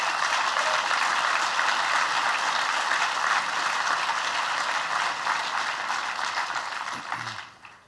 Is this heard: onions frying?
no